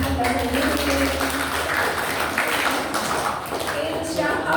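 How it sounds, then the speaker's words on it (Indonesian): A room of workshop participants at an academic writing session applauds together, a steady dense clatter of many hands at moderate loudness running throughout with some voices mixed in. "Kita berikan aplaus untuk diri Anda sendiri."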